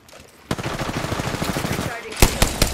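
Rapid automatic gunfire from the video game Apex Legends rattles in a fast, loud burst after a short pause, followed by a few sharper, heavier shots near the end.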